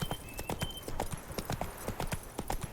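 Roach, a horse in The Witcher 3: Wild Hunt, clip-clops along at a steady trot, with the hooves beating in a quick, even rhythm over soft game ambience.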